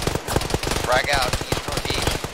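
Rapid bursts of automatic gunfire crackle in an Arma squad battle with a ShackTac group, the shots coming in dense, uneven volleys close by while players talk over the shooting.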